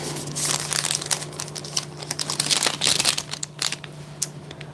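Buttons are packed into a small paper envelope alongside sewing kit notions, giving a stretch of crisp crinkling and rustling paper with small scattered taps, close and moderately loud, with a faint steady hum beneath and no talking.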